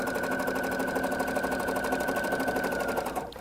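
A sewing machine runs steadily while stitching a wrap dress, a fast, even mechanical whir with a rapid rhythmic needle beat, close and continuous before stopping at the end.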